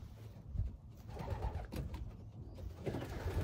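Racing pigeons cooing softly near a loft, faint low murmuring coos with some rustling and handling noise in the background, no talk.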